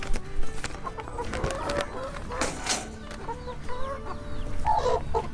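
Young hens and a rooster in a cage give close, irregular clucks and squawks, scattered throughout among low background rustling and noise.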